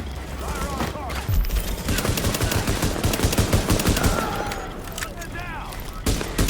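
Gunfire from the video game The Division, PvP survival mode with a pistol: a steady stream of rapid shots and bursts runs through the whole stretch, loud and close, with brief pauses near the end.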